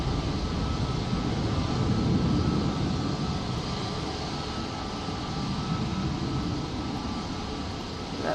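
Boeing 737-800 taking off at Manchester Airport during Storm Floris: a loud, continuous broadband roar of jet engines and wind, steady and unbroken throughout, with no pauses or distinct events.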